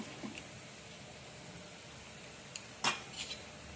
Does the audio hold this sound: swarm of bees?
no